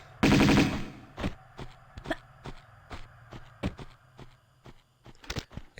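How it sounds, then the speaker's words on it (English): Gunfire from a firearm aimed at an enemy in Tomb Raider 2, on the wreck of the Maria Doria level: a loud opening burst followed by a long string of sharp, evenly spaced single shots. "Jump up and shoot him."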